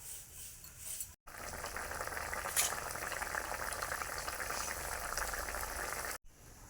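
A vegetable curry bubbling at a steady boil in a pot, a continuous close hiss and burble of liquid with brief breaks, and no voices over it.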